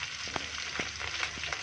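Goat brain frying with turmeric in oil in a pan, a quiet sizzle broken by a few soft scrapes and taps of a stirring spoon, close and without speech.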